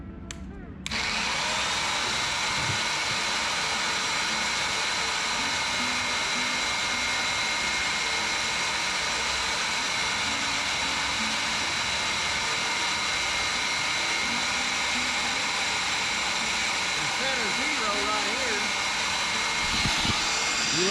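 A drill plunges 125 thousandths of an inch into metal to cut a quarter-inch keyseat, a steady loud whine of machine running continuously with faint background sounds throughout.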